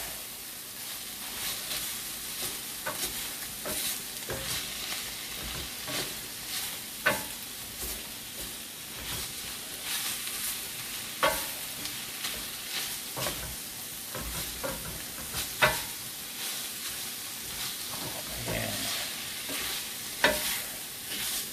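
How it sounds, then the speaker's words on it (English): Ground beef for sloppy joes is stirred in an enameled cast iron pan, a steady close sizzle and frying hiss running throughout with scraping spoon clicks and occasional louder knocks against the pan. "The ground beef. Let's dump that back in. Give it a good mixing."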